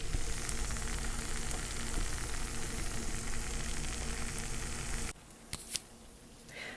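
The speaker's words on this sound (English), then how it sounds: "I thought I would record some of the sounds while it's still fresh and sizzling" Freshly cooked hot mac and cheese sizzling with a dense, steady crackle of tiny bubbles that cuts off abruptly, leaving a few faint clicks and quieter hiss.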